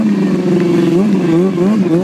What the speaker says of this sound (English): Aaron's White starting right off with some burnouts